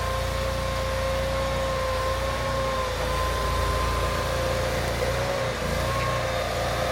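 Bad Boy Terrain articulated compact loader working, a steady low engine drone with a constant tonal whine layered above it, continuous and fairly close throughout.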